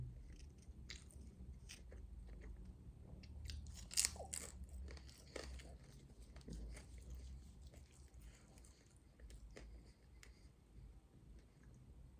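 Food being chewed and crunched during a mukbang, faint close mouth sounds and soft bites repeating steadily, with one sharper crunch partway through.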